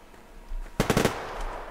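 Burst of automatic weapon fire in the online shooter Survarium, a quick rattle of about five close shots after a faint thump, set against quiet game ambience.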